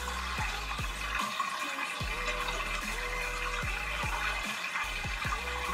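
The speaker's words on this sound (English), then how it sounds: "If you listen closely, you can hear the water flow." Water flows and trickles through a home hydroponic setup with a slight leak, a steady close gurgling stream over a low pump-like hum, punctuated by repeated soft dull thumps, with no speech.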